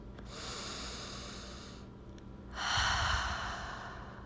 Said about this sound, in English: feel the rise and fall of the chest as the breath flows in